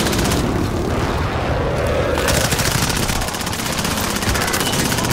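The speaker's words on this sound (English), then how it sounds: "Friendly precision airstrike inbound." Dense, continuous machine-gun fire and heavy explosions from a precision airstrike in the Call of Duty: Modern Warfare video game, loud and relentless throughout, with a faint voice beneath.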